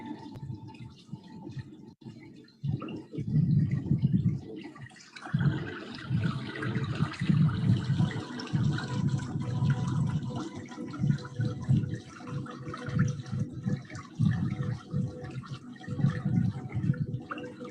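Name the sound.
flowing water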